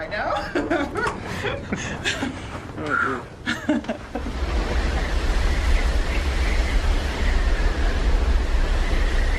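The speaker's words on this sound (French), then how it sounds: "Il y a un peu de vent dehors." A few seconds of talking give way to steady, rushing wind outside in Antarctica, with a deep, buffeting rumble that continues loudly to the end.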